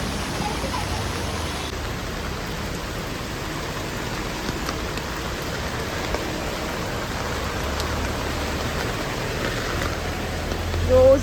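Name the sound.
rain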